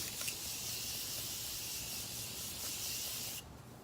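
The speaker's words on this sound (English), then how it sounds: "I'm gonna go ahead and finish off with the Morphe setting spray." A steady, airy spray of Morphe makeup setting spray hisses continuously for a few seconds, then cuts off abruptly, leaving quiet room tone.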